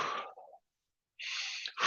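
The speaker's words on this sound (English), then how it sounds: "we want to start to generate a little bit of a forceful breath" Forceful breaths during a breathing exercise, two hard, noisy exhales puffed out close to the microphone, separated by about half a second of silence.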